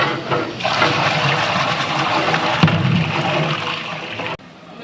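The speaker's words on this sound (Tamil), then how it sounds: "3 குடம் தண்ணி ஊற்றுறோங்க." Water gushing from a pot into a large biryani cooking vessel, about 54 litres poured in, a loud continuous splashing rush that cuts off sharply near the end.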